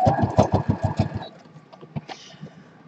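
A sewing machine that doesn't backstitch puts a short run of stitches through fabric wrapped around the back, as a quick rhythmic burst of thumping needle strokes that slows and stops, followed by quiet clicks and handling noises.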